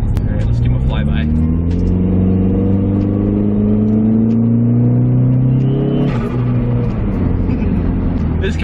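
A PT Cruiser GT engine drones steadily and loud throughout, pitch gliding as it accelerates, with a brief shift near the end as the car goes by.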